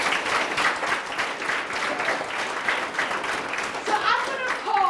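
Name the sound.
schoolchildren clapping for themselves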